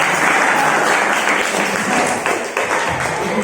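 A class gives sustained group applause during a small-group counselling session, the clapping loud and continuous, dipping slightly near the end, with faint voices mixed in.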